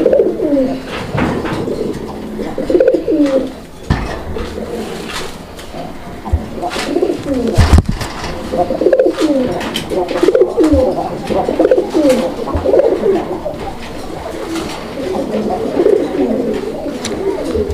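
A pair of Raj Golla pigeons cooing near the microphone, low rolling coos repeating steadily across the whole stretch, with no talk over them.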